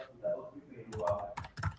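Quick keystrokes on a computer keyboard while typing a curl command, faint clicks that start sparse and grow into a denser burst near the end, close and quiet, with a little background murmur.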